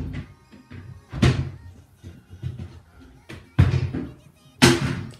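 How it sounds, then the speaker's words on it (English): Drawers are pulled open and pushed shut indoors, giving several loud thumps and slams spaced through the clip, with softer rattles and knocks in between. "I'm opening all my fucking drawers."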